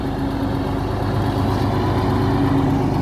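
A large Volvo truck idles at a roadside fuel station on the BR-304 highway, a steady low, rumbling drone that stays loud and even throughout, with no voices.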